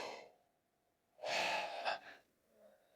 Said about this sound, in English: Let's force yourself to yawn just right now.